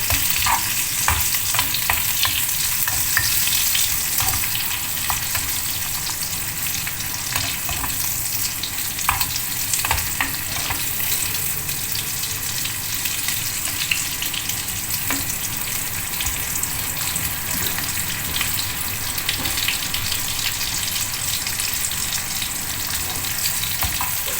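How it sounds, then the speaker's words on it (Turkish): Steady, dense sizzling of Turkish sucuk sausage frying in a pan, continuous and close, with occasional faint clinks and spatters throughout. "Sucuğu kızartayım ondan sonra."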